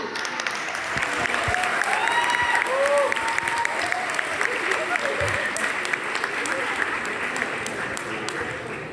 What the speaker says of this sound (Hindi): आपकी तालियों की गूंज में जनाब अम्मार इकबाल।